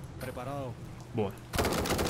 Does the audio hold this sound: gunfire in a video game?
yes